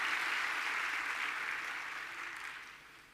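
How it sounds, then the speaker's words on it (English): Applause from a large audience at a university graduation ceremony, a steady wash of distant clapping that gradually fades toward the end, with no voices over it. "Please give them a warm round of applause."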